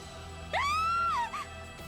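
A video game character in Tokyo Xanadu eX+ lets out a loud, rising then falling scream of about a second, followed by a short second cry, over steady game background sound.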